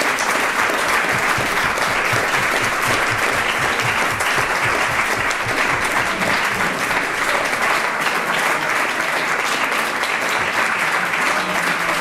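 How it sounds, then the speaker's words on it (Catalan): A hall full of people applauds steadily at an association's annual assembly, a dense sustained roar of clapping that holds level for the whole stretch without pause. "jo demanaria un aplaudiment pels dos que demanen"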